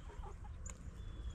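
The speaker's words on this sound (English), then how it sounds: "another one was crowing or attempting to crow" A roughly four-month-old rooster, heard on winter morning chores, gives a short, thin, strained attempt at a crow, brief and fairly faint over low background rumble.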